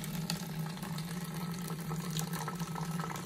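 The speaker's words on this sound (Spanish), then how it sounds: "justo de esta manera comienza a entrar el agua" Water runs steadily into a plastic bottle of a homemade, non-electric oxygenator, a continuous close trickle and gurgle with a low hum, no voices over it.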